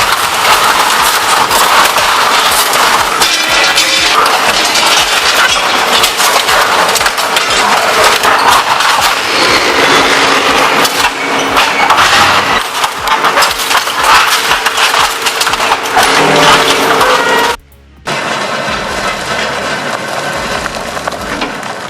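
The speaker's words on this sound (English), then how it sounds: "It shakes, spins, and sorts rubble like it's dropping beats." A rubble recycling machine shakes and sorts broken stone with a loud, dense, continuous rattle and crunch. The noise cuts out for a moment near the end, then resumes.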